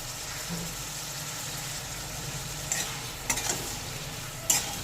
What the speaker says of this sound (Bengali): এইসব মশলা দিয়ে একটু নেড়ে নেব